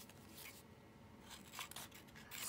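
Scissors snip paper in a planner, a few quiet, close crisp cuts with short pauses between them.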